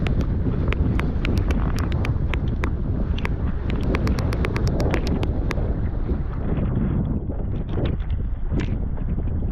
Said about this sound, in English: 40-mile-per-hour gusts are no joke.